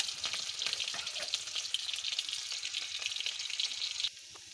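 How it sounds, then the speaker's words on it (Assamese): Onions dropped into hot oil sizzle in a dense, crackling hiss with bursts of spitting, close and loud, then abruptly drop to a softer sizzle near the end. "ইফালে তেলো গৰম হ'ল, পিঁয়াজখিনি দিওঁ"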